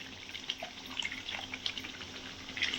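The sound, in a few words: pouring water into a jar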